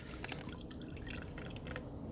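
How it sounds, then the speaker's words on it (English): Gasoline trickling from weed eater fuel lines into a plastic bottle, a faint, steady thin stream with soft dripping and gurgling, close up and without talk. "Pour all the gas out."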